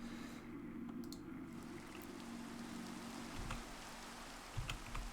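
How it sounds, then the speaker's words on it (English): Steady rain falling at night, a continuous soft wash of drops at even loudness throughout, with a low hum underneath and a few louder patters near the end. "And now it's raining"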